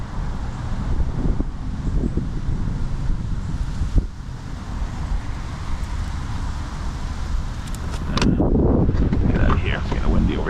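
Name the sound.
wind on water while kayak fishing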